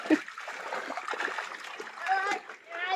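Water splashes and trickles at a kitchen sink during dishwashing, in irregular near bursts with a louder surge toward the end, mixed with people talking.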